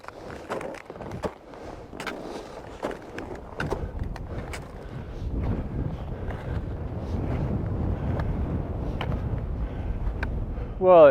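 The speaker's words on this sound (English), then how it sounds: "The wind actually has eased off slightly." Strong wind sweeps across a snowy Scottish mountain ridge near the summit, a steady buffeting roar and rumble that swells louder toward the end, with faint crunches and knocks in the first seconds.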